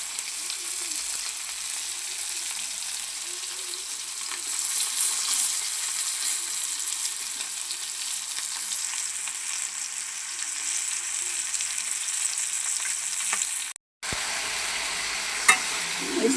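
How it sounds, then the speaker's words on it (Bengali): Bele fish fries in a pan with a constant crackling sizzle of oil that rises a little midway, then cuts off briefly before the frying resumes with a sharp clank. "এই যে মাছটা ভাজা হয়ে গেছে,"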